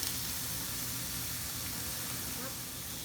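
Pork belly browning in a wide skillet gives a steady, even broadband sizzle, close and continuous for the whole stretch, with no distinct pops standing out.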